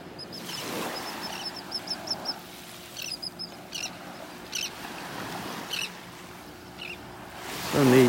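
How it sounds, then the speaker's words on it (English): Birds calling on a beach in North Naples, Florida on a morning walk, a series of short honking squawks at moderate distance over steady surf-like wash, with a brief louder rush near the end. "So neat listening to the birds here."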